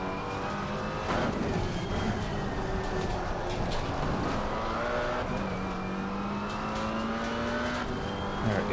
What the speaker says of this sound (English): Okay, Brendan, there's a faster class car approaching.